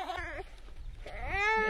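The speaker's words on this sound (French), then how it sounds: "Une petite vache ici." A young cow lets out high, wavering bleat-like calls near a camper van campsite, fairly close, one call at the start and another rising at the end over low rumbling background noise.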